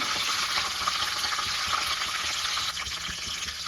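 Garlic cloves fry in hot oil with mustard seeds and cumin for a rasam tempering, a dense, steady sizzle with crackling close by, continuous and with no talk.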